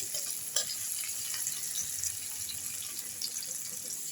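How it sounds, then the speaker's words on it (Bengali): Tomatoes, dried chilli, ginger and asafoetida fry in a pan with a soft, continuous sizzle, broken by faint scrapes of stirring. The sound stays quiet and close throughout. "এবার টমেটো এইগুলো ভাজা হয়ে গেছে"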